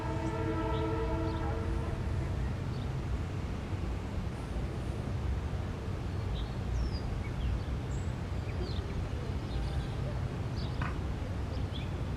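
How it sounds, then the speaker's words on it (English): A Shoreline East commuter train, an M8 train set, rumbles steadily nearby along the New London waterfront, with a horn sounding at the start, continuous and fairly loud throughout. "I soon heard another train, and this time it was a Shoreline East train set"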